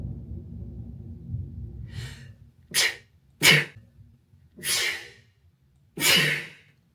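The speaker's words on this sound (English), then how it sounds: "I don't know why I sneezed at the end of that thunder." Several sneezes and sharp snorting breaths burst out close by one after another, each loud and abrupt, over faint rain in a quiet room.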